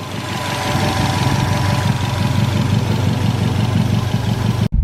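A turbocharged Subaru WRX converted to rear-wheel drive idles with a suspected boost leak, its engine holding a steady, loud, close rumble with a rapid pulsing beat, cut off abruptly near the end.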